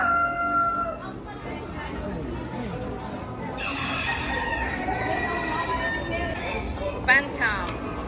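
A bantam chicken crows close by, its harsh drawn-out call rising over constant farmyard clucking and chatter, while people talk nearby.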